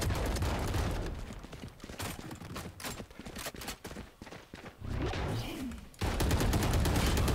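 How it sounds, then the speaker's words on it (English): Rapid bursts of gunfire in the Valorant video game crackle in dense, clattering volleys, loud at the start and end with scattered shots in between, no talking over them. "I hear a lot of gunfire"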